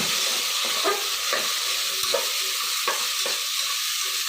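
Eggplant and spices fry in a pan for a sprouted horse gram curry, a constant hiss under several distinct scraping strokes of a spoon stirring at an unhurried pace, close and without talk.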